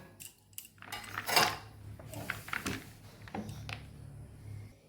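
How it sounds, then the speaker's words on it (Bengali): Ice cubes clinking and rattling into a glass of sago and mango sherbet, several sharp bright clatters close by with a quiet low hum underneath, no talking. "এবারে আইস কিউব দিয়ে দেবো।"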